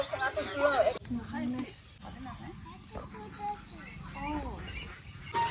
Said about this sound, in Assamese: এইকেইটা হ'ল আমাৰ হাঁহ আৰু চাওক এয়া